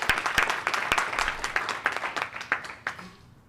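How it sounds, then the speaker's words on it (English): Round of applause at a community forum on Black housing in Memphis: scattered, sparse claps from a modest audience, individual sharp hand claps standing out over a steady bed of clapping. "Let's give her another round of applause."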